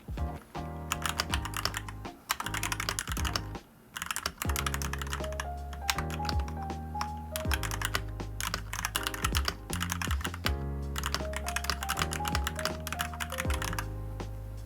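Steady, fast typing on a Shurikey Hanzo mechanical keyboard, with crisp clicks and a high ringing ping on each stroke, close and continuous with a brief pause.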